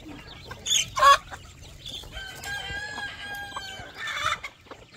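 Chickens clucking on a farm in Gabaldon, with a couple of loud close squawks early on, then steady overlapping clucks and a rising call near the end.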